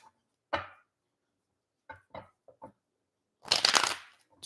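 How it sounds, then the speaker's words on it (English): Tarot cards are shuffled in quiet, close bursts: one short riffle, a quick run of small flicks, then a longer, louder riffle near the end, with silence in between. "I gotta shuffle 3 times."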